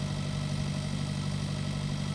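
Medium tractor engine pulling a trailer in Pure Farming 2018, a steady low droning rumble at a constant idle-like pitch, close and unbroken.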